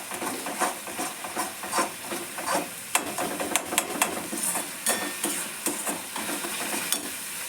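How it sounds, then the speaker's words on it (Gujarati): Ginger, garlic and chili paste sautés in a pan with a soft, continuous sizzle, broken by frequent clinks and scrapes of a spoon stirring against the metal. "એને પછી થોડુંક સાંતળી લઈશું."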